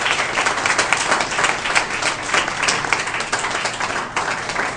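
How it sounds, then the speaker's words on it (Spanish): A church congregation breaks into sustained applause, a thick, even wash of many hands clapping at once with no words over it. "Denle un aplauso al Señor."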